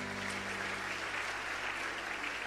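A church congregation applauds during a sermon, a dense, sustained clatter of many hands clapping together with an even, continuous roar and no clear pauses.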